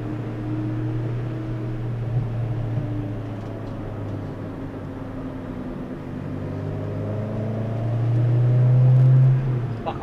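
Small orange and yellow Peugeot race car driving, its engine a steady close droning hum that swells louder toward the end, with no talking over it.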